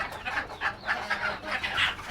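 Desi chickens kept on a home balcony cluck in quick, repeated bursts, fairly close and steady, with a soft background hum and no speech.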